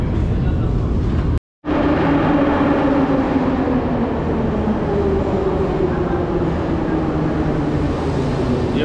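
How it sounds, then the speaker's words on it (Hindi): A Tbilisi metro train runs through an underground tunnel with a loud, steady roar and rumble that fills the whole stretch. The sound is broken only by a brief cut near the start. "ये मेट्रो अभी यहाँ की तिब्लिसी की जो है it's very much similar with Russia की भी जो थी"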